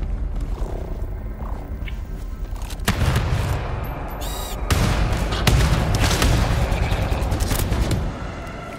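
Bolt-action rifle fire in the shooter game GTFO, a few heavy, booming shots with hard kick sounding among ongoing combat noise, loud and close, over a dense rumbling background.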